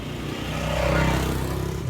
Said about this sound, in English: How many loud motorcycles can there be at one time?